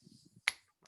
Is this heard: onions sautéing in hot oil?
no